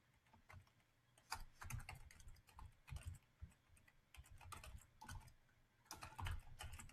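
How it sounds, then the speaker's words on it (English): Steady typing on a computer keyboard, soft and close, with irregular bursts of key clicks and short pauses and no talking. "Let me just type it out in here."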